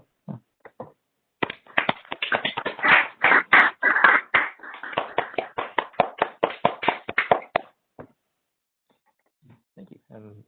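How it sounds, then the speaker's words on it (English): Scattered clapping from unmuted participants at the end of an online science talk on extreme matter and ultra-bright X-rays: a few people clapping in uneven, choppy bursts that stop abruptly, with brief quiet sounds after. "applause."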